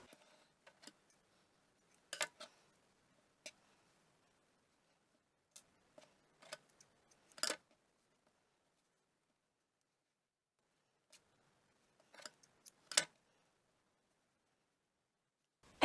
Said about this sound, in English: now we're just going to cut and tie off our yarn for all 3